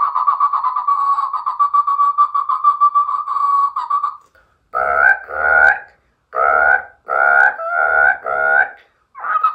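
A male mimicry artist at a comedy show imitates frogs croaking, starting with a steady throaty warble and then a series of about seven short, loud voiced croaks in quick bursts with brief pauses between them.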